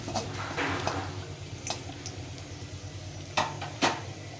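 Spices and ginger fry in hot oil as tempering for dal, a steady soft hiss broken by occasional clinks and taps of a spoon against the pan.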